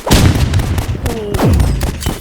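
Gunfire rings out in the Roblox Rivals shooter video game: a few sharp, punchy shots and thuds in quick succession, with faint voices in the background.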